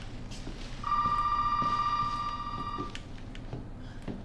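A telephone rings inside an old house in the horror game Resident Evil 7, one steady electronic ring that holds for about two seconds and then fades, set over a low, rumbling ambient background.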